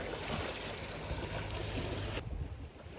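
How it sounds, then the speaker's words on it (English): Loud ocean waves wash and roar close by while a boat passes, its low motor drone running beneath broadband surf noise, the rush easing slightly toward the end. "It was getting really loud with the waves. There was a boat that went by"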